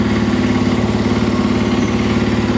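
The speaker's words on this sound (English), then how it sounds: "Make sure the bike is in neutral and give it a start" A motorcycle engine, the bike in neutral with its front brake held, idles close by with a steady, even throbbing pulse and no speech.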